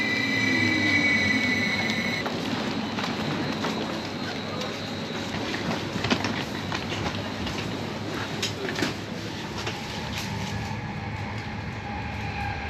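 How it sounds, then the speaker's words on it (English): An airport-to-city train rumbles steadily along with a low continuous roar and faint clicking, while muffled voices carry on underneath. "This train from the airport to the city takes about half an hour"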